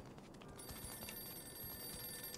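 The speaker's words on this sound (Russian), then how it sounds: "Это телефон." A telephone rings faintly and continuously inside an apartment in the video game Mafia II, a thin, steady electronic ring starting after a brief pause over low background noise.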